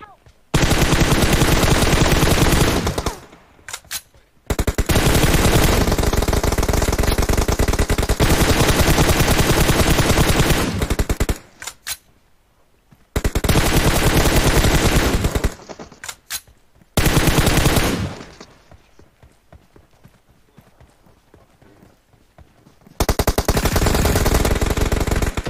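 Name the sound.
AKM rifle with muzzle firing in video game PUBG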